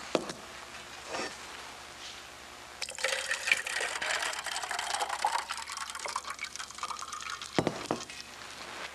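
Hot water pours into a can, starting after a short quiet stretch as a loud, continuous rushing, splashing fill that runs for several seconds, then breaks off with a few clunks near the end.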